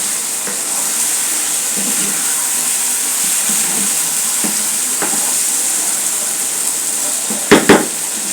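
Taro stalks frying in a pan give a steady, even sizzle and hiss, with a few soft utensil taps and two sharp knocks near the end, with no voices.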